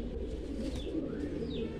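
Pigeons in a loft of Tipler-type birds, with a female nearby, give low, steady cooing that runs continuously and fairly close, with faint chirps above.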